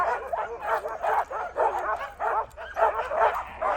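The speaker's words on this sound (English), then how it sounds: "All the others are just barking, have a great time, wagging their tails." Huskies at a dog sled camp on ice bark and yip in rapid, overlapping bursts, a lively close chorus that keeps going throughout with brief whines mixed in.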